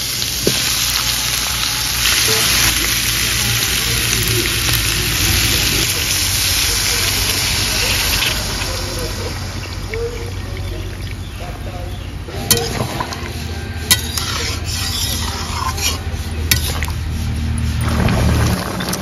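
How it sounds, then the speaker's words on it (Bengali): Vegetables simmer in a pan with added water for a Bengali vegetarian dish of banana stem and lentil dumplings, a steady close bubbling sizzle with occasional clinks of a utensil against the pan. "এবারে এই সবজিগুলো দিয়ে জল দিয়ে দেব।"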